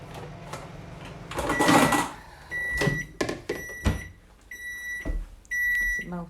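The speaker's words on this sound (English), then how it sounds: "that noise, it's just the microwave." A kitchen microwave oven clunks and whirs, then gives several short high electronic beeps in separate bursts, with handling clatter and door noises nearby and no speech.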